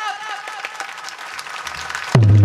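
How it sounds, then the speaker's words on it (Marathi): Loud hand clapping from a group, with rapid sharp claps that fill the air before a sudden low steady hum cuts in at the end. "टाळी जोरात."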